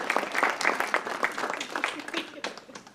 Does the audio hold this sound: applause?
yes